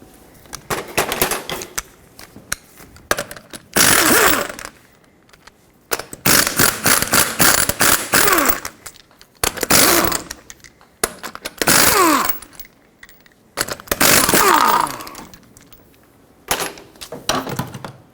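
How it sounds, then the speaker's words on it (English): A power wrench spins off the 21mm lug nuts of a Toyota Tacoma wheel, loud buzzing bursts of a second or two each, repeated about six times with short pauses and rattling between them. "Now you can use a regular size socket to get all the 5 21mm lug nuts off"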